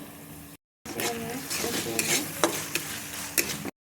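Browned onions fry in a pan as spices and garlic paste are added, a steady close sizzle broken by a brief gap, with sharp scraping clicks of a spoon stirring against the pan.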